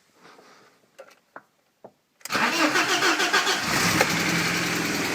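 A car engine cranks and catches after repair work, following a few faint knocks, then settles into a loud, steady, slightly rough idle that runs to the end.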